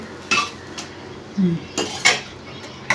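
An omelette is flipped in a cooking pan with a spatula, giving a few sharp metallic scrapes and clinks against a steady background of quiet frying, heard close.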